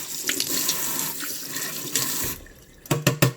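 Tap water runs steadily into a kitchen sink while a roasted chile for salsa is rinsed, a broad close hiss that briefly drops away before a few sharp splashy bursts near the end.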